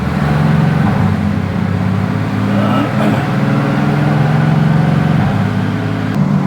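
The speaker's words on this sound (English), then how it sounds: "I'm just gonna drive it on the dyno, so warm it up, go up the gears" A Mercedes-AMG M177 twin-turbo V8 runs on a dyno fitted with new turbo manifolds, its loud, steady engine drone holding close throughout with slight rises in pitch as it works up through the gears.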